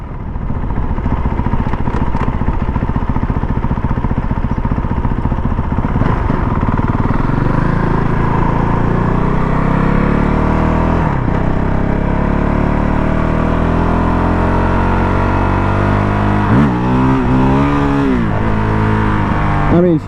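Honda CRF450 dirt bike cruising on a highway at around 55 to 60 mph, a loud steady engine roar with wind noise, rising and falling revs as it shifts and picks up speed.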